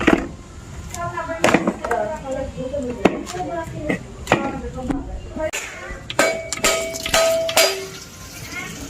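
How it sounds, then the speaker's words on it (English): Coconuts are struck to crack them open, giving a series of sharp, hard knocks and clinks at uneven intervals, close by, as a voice speaks between the blows. "now we'll be cracking the coconut"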